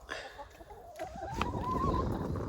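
Chickens cluck and murmur close by, with one drawn-out rising call over a low rustling background.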